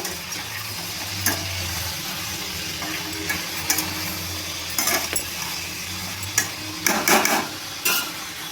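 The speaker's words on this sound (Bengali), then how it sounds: "পেঁপে আর আলুটা আমি চিংড়ি মাছের সঙ্গে ভালোভাবে ভেজে নেব" Potato and papaya pieces fry with prawns in a pan, giving a steady close sizzle with scattered sharp clinks and scrapes of a utensil stirring against the metal.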